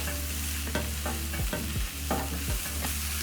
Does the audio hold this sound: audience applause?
no